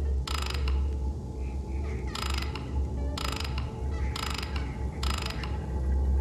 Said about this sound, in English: Click sound from the lock.